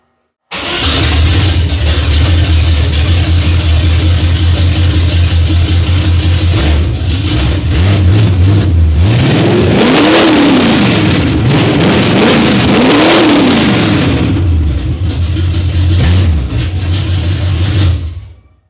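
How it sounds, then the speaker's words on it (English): Chevrolet K10 truck engine with open headers, loud and close: a rough, throaty idle builds into several sharp revs that rise and fall in swooping blips, then settles back before cutting off. "You guys didn't think I would let you go without hearing an open headers, did ya?"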